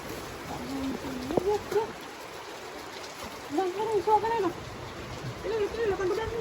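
Heavy rain pours down steadily in a village in the afternoon, a continuous broad hiss of falling water with voices talking intermittently over it.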